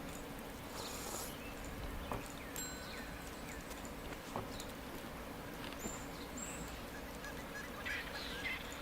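A bird in Card Survival Fantasy Forest gives faint, honking, fowl-like calls a few times over a steady low ambient bed, with no talk.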